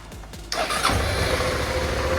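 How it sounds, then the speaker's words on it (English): Motorbike engine cranking briefly after the fuel pump primes, then catching and firing up into a steady, close idle with a slight rev, loud and alone without talking. "And there we go, it runs."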